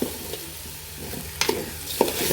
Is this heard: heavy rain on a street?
no